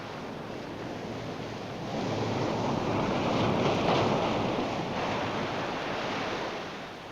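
Surf washes steadily onto a dark beach, a broad continuous roar that swells in the middle and eases toward the end, mixed with wind and no voices.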